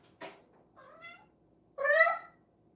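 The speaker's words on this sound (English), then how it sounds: "one of the best cat activation sounds in the world" A cat gives a couple of meows, first a short chirp-like one, then a brief pause and a louder, drawn-out meow close by, with no talking over it.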